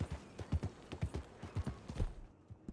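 Horse hooves clip-clop in a steady, brisk rhythm in Red Dead Redemption 2, about a dozen crisp close impacts over a few seconds, then stopping.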